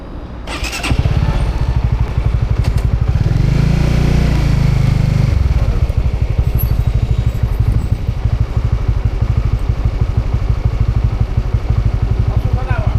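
A motorcycle engine starts up and runs steadily close by, a loud rough idle with a brief rev early on, while people talk over it.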